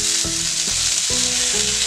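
A potato frying in a pan gives a steady, close hiss of bubbling sizzle with a low tonal hum and a few brief shifts in pitch, loud and unbroken, with no voices.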